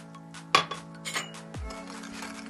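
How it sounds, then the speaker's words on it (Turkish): A spoon clinks against a glass while stirring yeast, sugar and warm water, with a sharp first tap followed by a few lighter clinks and scrapes, close up and without talking. "Karıştırıyoruz."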